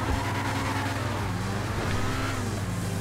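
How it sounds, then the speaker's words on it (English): A supercar engine in GTA 5 holds against its rev limiter as one loud, continuous drone. The pitch stays steady with only slight wavers for the whole stretch. "That's a problem hitting the rev limiter"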